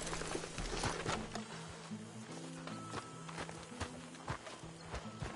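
Hooves clip-clop at a steady walking pace over a low droning tone in the video game Red Dead Redemption 2, with faint scattered clicks and no clear whinny.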